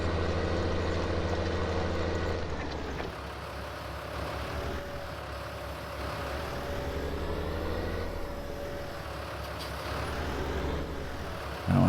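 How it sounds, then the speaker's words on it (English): A 160 horsepower tractor in Farming Simulator 19 runs with the throttle held down, giving a steady, loud engine drone that holds through the whole stretch, with a slight shift in pitch partway through and no talking. "This little 160 horsepower tractor is actually pretty beefy."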